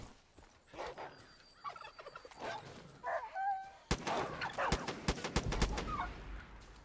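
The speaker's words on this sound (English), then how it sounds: "Also, people are being attacked by turkeys. Vicious little buggers, those damn turkeys." Wild turkeys gobble in Far Cry 5, first in scattered calls and then in louder, denser bursts that overlap sharp gunfire-like cracks toward the end.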